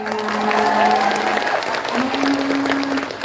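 Applause from a seated audience at a humorous Sundanese-language Islamic sermon in Dramaga, a steady dense clapping wash lasting the whole moment, with some tonal music or voice lines running underneath.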